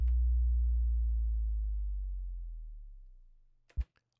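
A synthesized sub drop bass effect, a deep sine tone that starts loud and slowly sinks lower in pitch while fading over several seconds, then ends with a couple of short low thumps.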